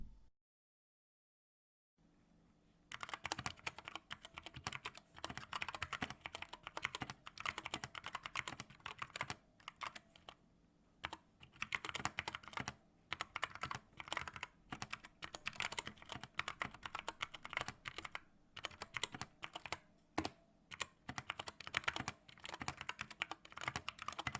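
Steady, clacky typing on a mechanical keyboard, rapid keystrokes in uneven bursts with brief pauses, close and fairly loud, no voices.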